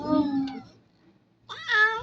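A cat gives two loud, close meows, the first drawn out and the second rising after a short silent gap, with no speech over them.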